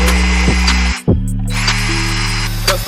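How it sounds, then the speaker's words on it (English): A power drill bores a hole while a fuel return system is fitted to a 9th gen Honda Civic, its loud steady whine running nearly continuous with one brief pause near the start, close up. "we gotta drill the hole and stuff"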